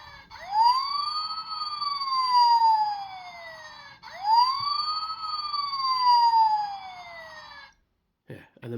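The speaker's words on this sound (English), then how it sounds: "Yeah, you got the siren noise there." A Transformers: Robots in Disguise (2001) Optimus Prime toy plays an electronic siren effect, two rising-and-falling wails in a row, loud and close, then cuts off to brief handling noise.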